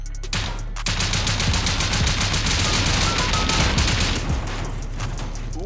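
Sustained rapid gunfire in a base-raiding video game as players shoot out the floor, a loud continuous fusillade running the whole time with a brief gap near the start.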